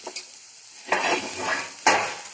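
Onions fry in a pan for a vegetable curry, with soft sizzling broken by two distinct scraping stirs of a spoon against the metal, close and fairly loud, with no talking.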